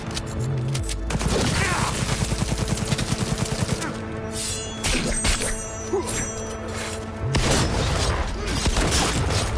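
Rapid automatic gunfire in a Cyberpunk 2077 shootout, a dense burst of shots with booms and shattering debris, loud and close, followed by further scattered bursts.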